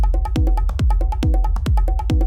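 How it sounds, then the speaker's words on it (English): Dry hand drum loop of congas and bongos, a steady rhythmic pattern of deep tones and sharp slaps, close and loud. "it's just a set of hand drums, some congas and bongos."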